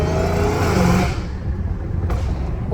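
A straight-piped Dodge Hellcat Redeye with reworked exhaust valves revs loudly up close, one brief high surge that drops off into a rumbling idle with a crackle near the end.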